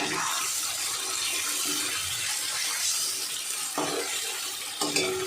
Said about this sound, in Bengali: মশলার বাটিটা ধুয়ে একদম সামান্য একটু জল দিয়ে দেবো